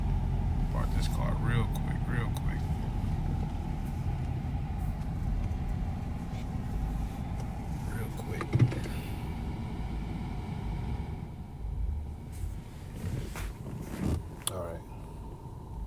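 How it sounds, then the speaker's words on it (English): A car's low engine and road rumble runs steadily inside the cabin as it is being parked, with someone talking over it throughout and a couple of brief knocks near the end. "Let me park this car real quick."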